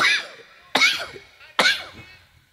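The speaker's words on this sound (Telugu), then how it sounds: "నేను సరే దగ్గుతున్నాను, మీకు దగ్గులేదు" Three separate, sharp coughs come from one person during a church prayer service, evenly spaced about a second apart and heard close up, each fading quickly.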